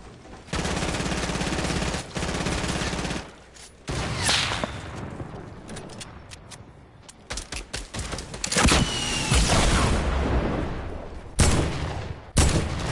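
Bursts of automatic gunfire from the video game Fortnite rattle loudly in rapid strings, broken by short pauses and single sharp cracks, with no talk over them.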